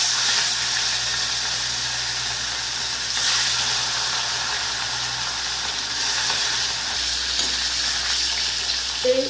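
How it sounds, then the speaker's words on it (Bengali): Rohu fish fry in hot oil in a wok, a loud continuous crackling sizzle and hiss that runs the whole time with small bursts of spatter, with a low hum underneath. "এবার আমি মাছগুলোকে ভেজে নেব"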